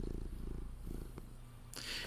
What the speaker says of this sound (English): You know you can hear him purring that,